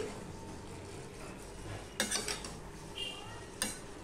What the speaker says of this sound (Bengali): এবার ভালো করে খুন্তির সাহায্যে এভাবে মিশিয়ে নেব। দেখো আমি কিভাবে মেশাচ্ছি